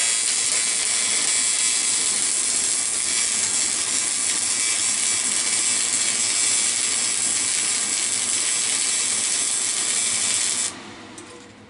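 A stick welder burns a 1/8 inch 7014 rod on AC at 200 hertz on a 115 volt supply, a continuous loud hissing crackle that stops abruptly near the end.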